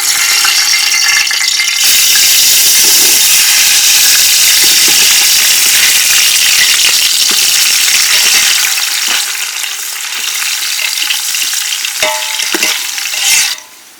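Onions sautéing in a pan for Dindigul-style biryani, a loud continuous sizzle broken by repeated scraping stirs of a spoon against the pan near the end.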